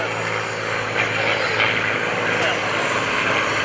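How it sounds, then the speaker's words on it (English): A T-34 Mentor propeller trainer with a large greenhouse canopy flies past at an airshow, its engine a loud, steady drone that fills the whole stretch, with a commentator's voice over it. "And here comes our third T-34."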